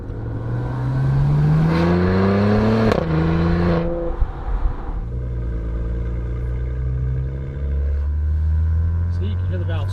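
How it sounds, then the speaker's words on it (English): Maserati Levante exhaust note while driving, a steady low drone that rises and swells, then drops sharply as the exhaust valves close and settles into a quieter hum, with engine sound continuous throughout. "you can hear the valves close themselves again"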